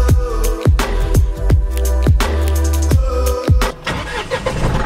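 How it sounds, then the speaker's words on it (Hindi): A Mahindra Bolero Neo diesel engine starting in the cold, with rhythmic cranking pulses before it catches and settles into a running idle, close and loud. "गाड़ी तो खट से स्टार्ट।"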